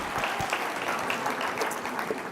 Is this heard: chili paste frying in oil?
no